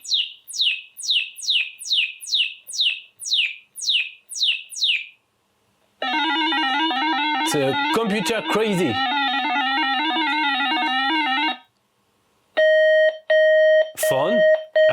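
A warbling electronic telephone ring from a Sanyo PHC-25 computer sounds steadily for several seconds, then short beeping tones return, with a voice speaking over part of it.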